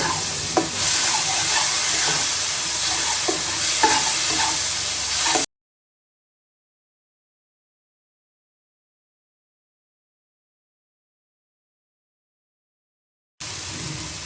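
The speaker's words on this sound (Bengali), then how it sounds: "একটু জল দিয়ে নিচ্ছি মশলাটা কষানোর জন্য" Spice paste of chili powder and water sizzling and frying in a pan, stirred at times, with steady close crackle for about five seconds, then silence before the frying returns briefly at the end.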